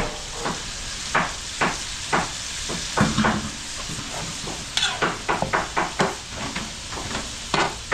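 Sauce boiling in a pot with pork belly, with a steady sizzling hiss and frequent sharp pops and spatters at close range.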